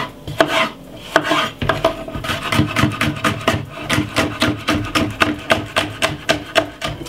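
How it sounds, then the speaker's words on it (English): A knife chops yellow pepper into small pieces on a cutting board for a healthy salad, with rapid, regular close-up knocks of blade on board continuing throughout. "This is some yellow pepper, and I cut them very small."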